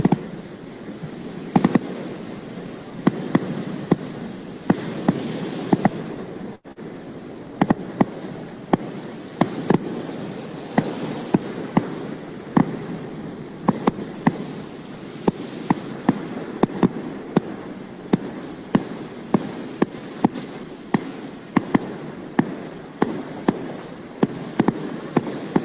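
Fireworks crackle and pop in a long irregular barrage of sharp bangs over a steady hissing background, some bursts close, others farther off.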